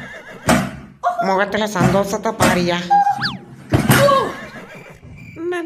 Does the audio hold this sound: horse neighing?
yes